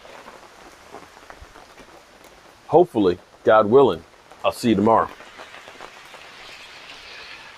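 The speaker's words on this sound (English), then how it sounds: "Oh, that rain's cold" Cold rain falls steadily outdoors at night as a soft, even hiss, with someone speaking a few short phrases over it in the middle.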